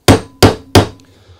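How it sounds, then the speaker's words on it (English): A hammer drives a bearing race into a trailer axle hub: three sharp, loud metallic strikes at an even pace, each ringing briefly before the next, with no talk. "Then we'll take a hammer. And we'll drive it in."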